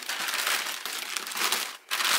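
A plastic bag crinkles and rustles steadily as it is stretched over a tub used for salting napa cabbage for kimchi. The sound is close and continuous, with a brief dip near the end.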